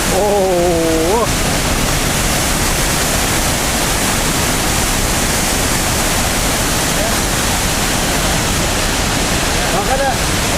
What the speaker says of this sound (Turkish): Şelaleni çekeyim ya.